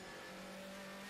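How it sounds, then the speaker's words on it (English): A Mercedes DTM race car engine screams at high revs during a 2014 race at Zandvoort, a steady, strained whine held briefly at a moderate distance. "you can hear that engine absolutely being caned by Danny Juncadella."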